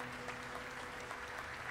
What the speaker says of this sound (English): Why are they clapping?